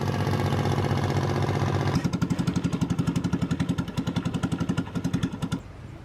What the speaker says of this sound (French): on est avec le son des moteurs de longue taille, des longues queues, comme ils appellent ça.